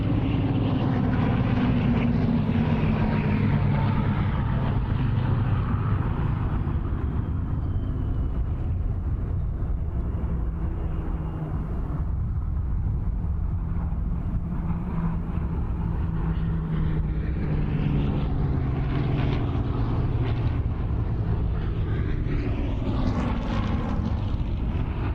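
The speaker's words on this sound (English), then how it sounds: "it's a bit of a shame talking over the wonderful sound of all these aircraft displaying together" Vintage aircraft fly a formation display at the Duxford Battle of Britain air show, a loud, continuous broad engine roar that swells and shifts as the planes pass overhead.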